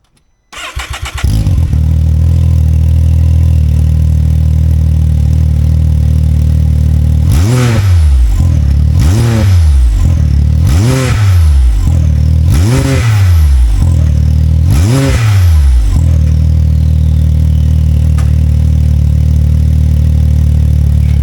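Engine fitted with a JSTAR exhaust upgrade cranks and fires up, settles into a steady loud idle, then gets five sharp blips of the throttle that rise and fall before returning to idle.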